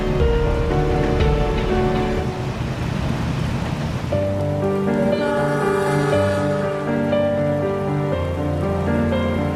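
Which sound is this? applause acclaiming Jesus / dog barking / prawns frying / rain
rain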